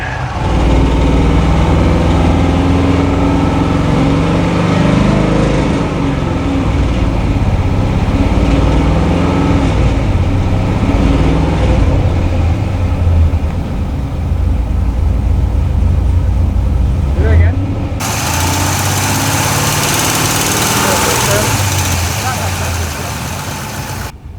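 A loud engine idles steadily and close by, a continuous rumble with a faint rapid lifter tick running through it.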